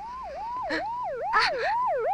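A police siren wails in a Filipino comedy film, its tone sweeping up and down in repeated cycles while short, harsh noise bursts cut in over it.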